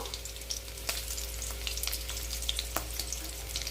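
Kalonji (black cumin) seeds fry in a pan with five or six garlic cloves, giving a steady close sizzle. Occasional sharp crackles and brief stirring scrapes rise over it, and no one talks.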